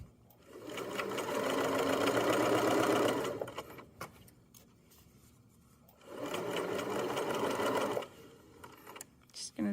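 A sewing machine runs in two bursts while stitching the facing onto a hoodie hood, a steady mechanical whir of about three seconds, then a pause, then a second burst of about two seconds, close and loud, with brief handling noises between.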